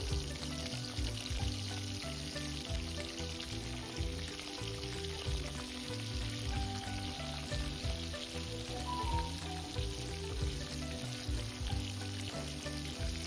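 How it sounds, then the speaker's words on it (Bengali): Prawns frying in hot oil in a wok for a Bengali prawn curry with mustard paste and coconut make a loud, continuous, close sizzle with some stirring, and no talking. "কড়াইতে তেল গরম হলে এতে এক এক করে চিংড়ি মাছগুলো সব"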